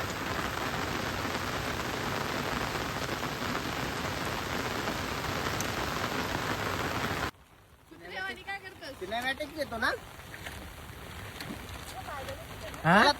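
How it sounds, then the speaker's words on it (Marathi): Heavy monsoon rain roars steadily over farm fields for several seconds, then cuts off abruptly, leaving a quieter background where people talk. "पाऊस आलेला आहे जोरदार"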